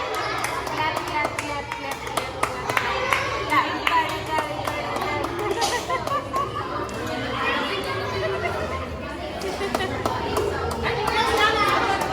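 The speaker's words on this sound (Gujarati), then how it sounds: "તાળી પાડો" A crowd claps at a Ganpati Visarjan celebration, scattered irregular hand claps mixing with loud chatter and children's voices throughout a busy indoor gathering.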